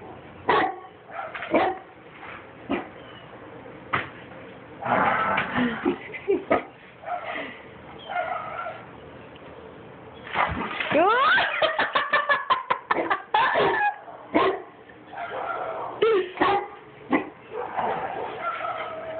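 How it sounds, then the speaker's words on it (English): A dog barks repeatedly in quick bursts, some sharp and clustered, mixed with laughter and voices nearby. "big bad dog"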